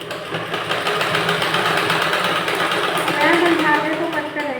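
A sewing machine runs continuously while stitching piping cord onto a blouse, a fast steady mechanical chatter with faint rhythmic knocking, close by with a voice speaking over it.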